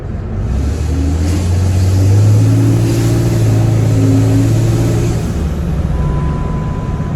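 A deep Dodge Cummins diesel truck engine idles and rumbles steadily up close, with a low droning tone that swells slightly and stays loud throughout.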